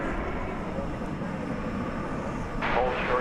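An American Airlines Airbus A321 arriving from San Francisco at DFW Airport gives a steady, broadband roar that stays level throughout, with a brief rise near the end while someone talks over it.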